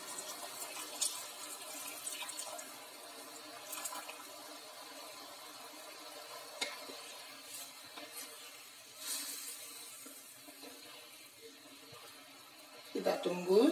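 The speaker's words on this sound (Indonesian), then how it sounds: "Lalu kita masukkan air asam." Tamarind water strained into a pot for spicy-sour squid, a soft running, splashing trickle of liquid steady throughout, with a louder pour near the end.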